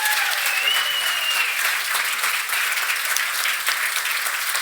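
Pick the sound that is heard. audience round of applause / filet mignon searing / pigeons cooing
audience round of applause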